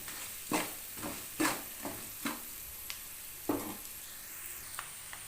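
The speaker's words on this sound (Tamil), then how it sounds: "இப்போ இதுக்கு மட்டும் லைட்டாக உப்பு போட்டுக்கலாம் போட்டு நல்லா கொஞ்சம் நல்லா வதங்கி வரட்டும்" Onions sauté with salt in a pan for okra fried rice, a steady sizzle punctuated by several distinct scraping stirs in an uneven rhythm, close and moderately loud; no talking.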